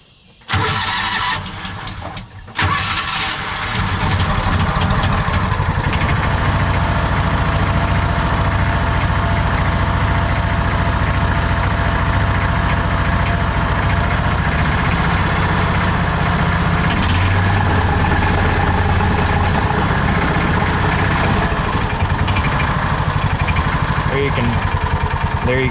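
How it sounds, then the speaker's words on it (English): A John Deere Gator 4x2 with hard-starting, idle and clutch trouble cranks and starts, then runs at a loud, steady idle full of belt and clutch racket, with a brief dip partway through. "There you can probably start to hear some of that belt noise or that clutch noise I was talking about. It makes an awful racket back there."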